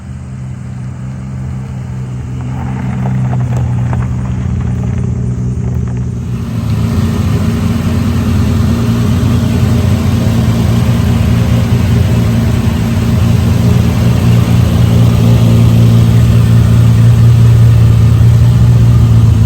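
Triumph Spitfire Six on a test drive, its six-cylinder engine droning steadily and loudly from inside the moving car, with a continuous low hum that swells slightly as the run goes on.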